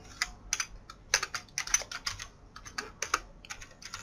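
Quick bursts of keystrokes on a computer keyboard while a Kali Linux command is entered, crisp and close, in irregular clusters with brief pauses and no talking.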